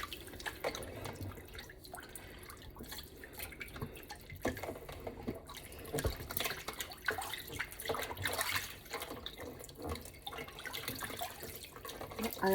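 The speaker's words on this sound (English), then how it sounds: "I always wash my meat in very, very warm water, almost hot." Very warm tap water streams steadily over a pork roast being rinsed in a sink, with constant splashing and intermittent sloshing as the meat is turned, close and continuous.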